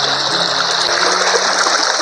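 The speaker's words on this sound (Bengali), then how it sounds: "তো এইখান দিয়ে সোজা বয়ে গেছে জয়ন্তী নদী" Jayanti river in the Dooars, near Buxa, flowing straight down from the hills over stones and pebbles, a steady close rush of running water with a continuous broadband hiss and no talk.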